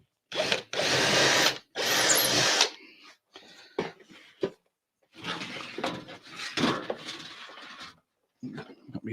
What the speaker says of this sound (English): Right, I'm going to do some drilling now, so it might get a bit loud, guys.